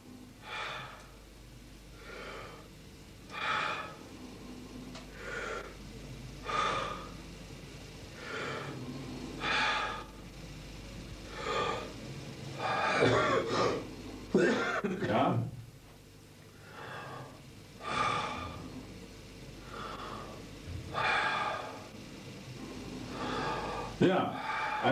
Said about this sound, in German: Jetzt mal tief ein- und ausatmen